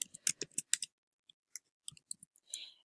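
Typing on a computer keyboard: a quick flurry of light, crisp key clicks, then scattered single taps after a short gap, close and clear in an otherwise quiet room.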